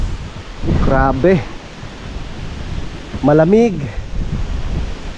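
Strong wind blows in a steady, rushing roar outdoors, close and loud against the microphone, while someone speaks briefly twice over it.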